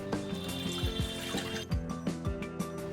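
Milk from a half-litre packet is poured into a cooking pot that already holds a little water, giving a steady liquid splash and gurgle with brief dripping, close and clear, no talk.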